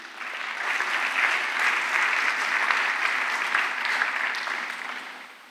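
Congregation in a church applauding in acclaim of God, a dense sustained round of clapping that swells quickly, holds steady for several seconds and then tapers off.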